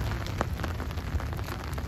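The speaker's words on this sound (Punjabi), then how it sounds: "ਮੀਂਹ ਬਹੁਤ ਆ" Heavy rain falls outside Kartarpur Sahib gurdwara in Pakistan, a steady dense hiss of drops beating on surfaces with no breaks and no voices.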